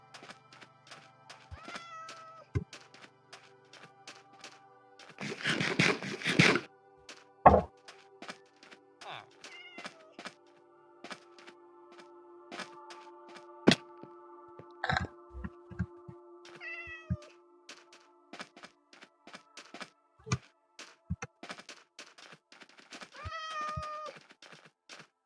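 Several cat meows from Minecraft, short rising calls repeating across the clip, clear and fairly close, mixed with game sound effects and thumps, with no talking.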